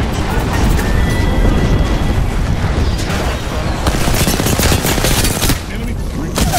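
Sustained automatic gunfire in Apex Legends, playing Gibraltar in Kings Canyon, as loud rapid bursts over constant battle noise, with a voice talking over parts of it.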